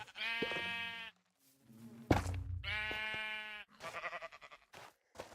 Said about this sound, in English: One more white sheep.